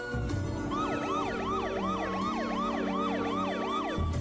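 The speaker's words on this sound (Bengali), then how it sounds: "তখন হঠাৎ করে কোথা থেকে 2টা পুলিশের গাড়ি এলো" Police car siren wailing loudly and steadily, its rising and falling tone repeating in rapid cycles alongside a low engine rumble, close and alone with no voices.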